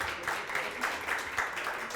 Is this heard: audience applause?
yes